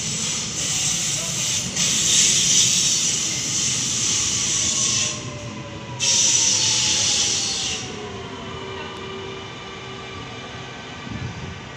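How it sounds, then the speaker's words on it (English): A 4-car M set train pulls into a platform at a Liverpool station with loud, steady hiss and rumble, brake squeal tones sliding through the middle, and two bursts of brighter hissing air. "We have a 4-car M set arriving into platform 3."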